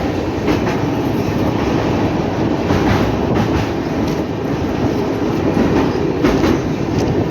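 Steady clatter and rumble of the 16338 Okha Express passenger train running near Ahmedabad, continuous rail and wheel noise with faint rhythmic clicks, heard from on board, no talking.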